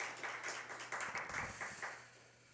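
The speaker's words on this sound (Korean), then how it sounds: "우리 박수로 환영합시다." Church congregation at an early-morning prayer service clapping in welcome for a member, a short burst of hand claps that swells then tapers off, moderately close.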